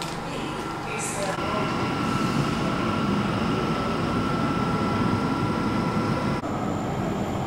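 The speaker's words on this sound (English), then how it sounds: "Train's just coming in." An Elizabeth line train pulls into an underground London station, a loud steady rumble and rising whine with a faint tonal hum, close and continuous for several seconds.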